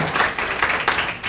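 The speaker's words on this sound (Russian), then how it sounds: "Еще раз ваши аплодисменты." Brief burst of clapping from an audience, a steady patter of many hands without voices.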